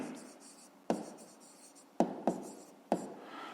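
A pen writes an answer by hand on paper, making soft scratchy strokes punctuated by four sharp taps at uneven intervals, close and quiet with no voice heard.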